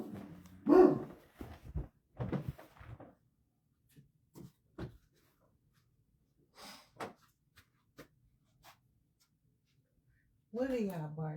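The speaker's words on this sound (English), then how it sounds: "What are y'all barking at?" Dogs bark indoors in a few short, scattered bursts at moderate distance, with quiet gaps between them and a voice talking at the start and end.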